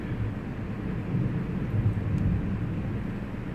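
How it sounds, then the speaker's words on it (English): Low rumbling of a thunderstorm with rain outside a home, a deep continuous roll that swells slightly midway, heard muffled and indoors with no talking. "We're having a big storm. It's raining out."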